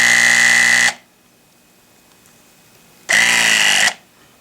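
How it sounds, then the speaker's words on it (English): A powered crimping tool crimps a terminal lug onto stripped wire in two loud motorized bursts, the first about a second long, then silence, then a shorter whirring cycle as the die releases. "It's going to make the complete crimp and release."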